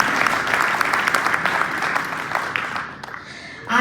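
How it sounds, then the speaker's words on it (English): Audience at a Wayne County Commission re-election campaign kickoff claps steadily for the commissioners, a dense sustained round of applause that fades out near the end. "Let's give them a round of applause for coming."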